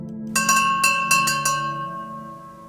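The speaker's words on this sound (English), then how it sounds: "The bell rings." Bell ringing in a ghost-themed video game, several bright metallic strikes in quick succession that ring on with a long fading resonance.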